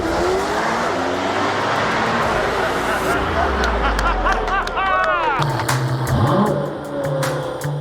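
A Chevrolet Corvette ZR1X launches down a drag strip, its engine roaring and revving hard as it pulls away, with a rising, sweeping tone and a brief tire squeal while a voice talks over the action.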